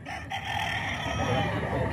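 A gamefowl rooster crows at a gathering where many fighting birds are on sale; the crow is drawn out and fairly close, over steady crowd murmur and faint voices.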